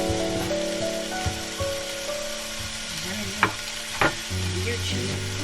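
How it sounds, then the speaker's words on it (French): Bacon lardons frying in a home-kitchen pan give a steady, close sizzle with crackling, and two sharp spits or pops stand out near the end. "on va faire cuire les lardons"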